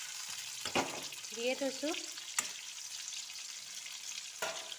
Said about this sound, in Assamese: এয়া মাংসকণ ফ্ৰাই হৈ আছে, লৰাই দিছোঁ।